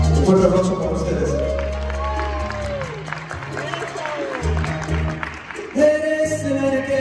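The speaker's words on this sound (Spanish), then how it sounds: "Un fuerte aplauso para ustedes." An audience applauds during a Spanish love song performance, a broad steady wash of clapping running under sung vocals and music throughout.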